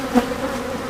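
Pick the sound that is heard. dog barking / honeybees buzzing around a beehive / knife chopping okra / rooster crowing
honeybees buzzing around a beehive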